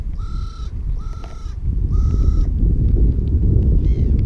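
Crows being fed ham in a wooded spot give several loud, harsh caws in a loose rhythm, close by, over steady rustling and outdoor noise.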